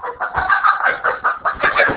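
A pet chicken that has hopped out of a box in a classroom clucks in a steady run of loud, close, rhythmic clucks with no talking over it.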